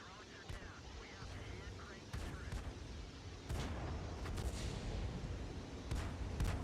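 Tank cannon fire and explosions in the World of Tanks video game, a series of sharp booming shots of varying distance over continuous low battle rumble, growing denser toward the end.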